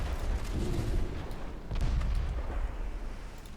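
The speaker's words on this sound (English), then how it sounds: "That was my own torpedo." A torpedo explosion in a naval warfare video game rumbles as a deep, heavy boom that swells and lingers, with a second surge of low roar partway through.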